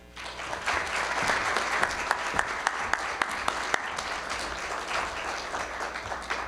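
A large crowd applauds at a community college commencement ceremony for the class of 2025, with dense, sustained clapping that stays steady throughout and a few sharper individual claps standing out.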